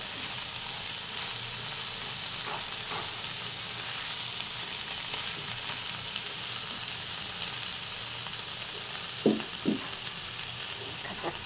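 Meat fries in the water released from leafy greens, giving a soft, steady sizzle throughout, with a couple of brief clinks from a utensil near the end.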